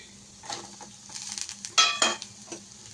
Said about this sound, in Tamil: தேங்காய் போட்டு லைட்டாக வதக்கினா போதும்.